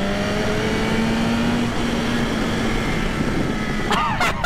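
BMW S1000RR superbike accelerating hard on an Indian road, a loud sustained engine roar with rising whine and wind noise close to the rider, steady throughout without talk.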